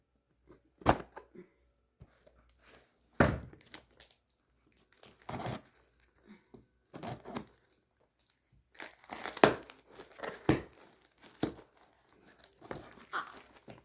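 A gift package being unwrapped: bursts of crinkling plastic and paper tearing come in separate close handfuls with quiet pauses between, louder near the end, and no talking.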